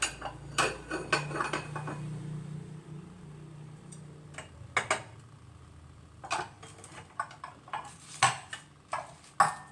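Cups and bowls handled in a home kitchen while preparing food, with scattered clinks and knocks of dishware, some close and sharp, others lighter, set over a low steady hum.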